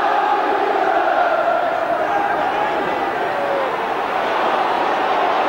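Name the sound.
football stadium crowd cheering after a goal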